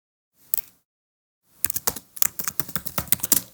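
Computer keyboard being typed on to write a tweet caption: one lone keystroke, a pause, then a fast run of crisp, close clicks with no talk.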